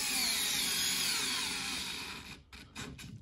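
A Skil 4V cordless screwdriver drives a screw into a wooden workbench without a pre-drilled hole, giving a steady, fairly faint whirring motor drone. Near the end it stutters into a few short bursts as the screw tightens.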